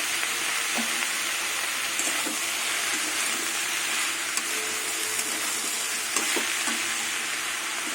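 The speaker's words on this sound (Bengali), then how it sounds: "এইভাবেই আমি ভেজে নেব কিছুক্ষণ পেঁয়াজ পাতাটা" Steady sizzling hiss of onion leaves frying in a pan, close and continuous, with occasional light pops and stirring scrapes.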